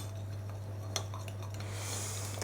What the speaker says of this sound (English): mix the sugar and the cinnamon together